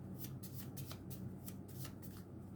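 Handmade paper cards are shuffled in quick, repeated riffling bursts that run through the whole stretch, close and fairly soft, with no talking.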